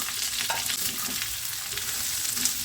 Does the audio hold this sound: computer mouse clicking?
no